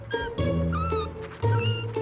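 Several kittens meow in close succession, high wavering cries overlapping loudly and near, with no talk.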